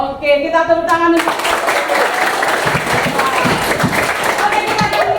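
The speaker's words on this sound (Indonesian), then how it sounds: "Oke, kita tepuk tangan dulu." Students in a physics classroom break into sustained applause, a dense wash of hand clapping that runs steadily for several seconds right after a brief spoken prompt, with scattered voices mixed in.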